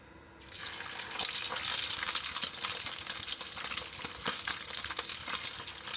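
Fish sizzling in hot oil in a wok, a steady crackling fry with sharp spits and pops, close and moderately loud with no talking.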